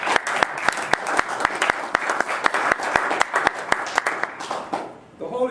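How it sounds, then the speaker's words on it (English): An audience at a lecture gives a round of applause. The dense clapping carries sharp, evenly spaced louder claps and fades out near the end. "Give yourselves a round of applause."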